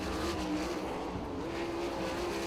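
Several 410 sprint cars race around a dirt speedway, their engines blending into a steady, loud, continuous roar with no break and no voices on top.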